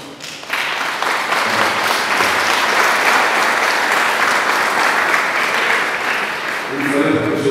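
A large audience bursts into sustained, dense applause at a Congolese gathering, loud and steady for several seconds with a faint voice near the end.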